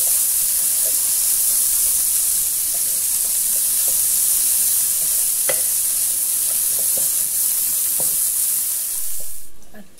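Bacon fries in a Philco electric pan, giving a steady bright sizzle and hiss with occasional soft pops and crackles, heard close up without talk.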